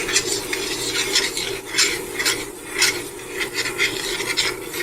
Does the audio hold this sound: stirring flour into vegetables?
yes